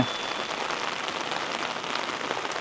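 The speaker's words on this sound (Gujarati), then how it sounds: "અત્યારે ઠંડુ વરસાદ પણ છે" Steady cold rain patters on surfaces in a garden, an even, dense hiss of drops with no pauses.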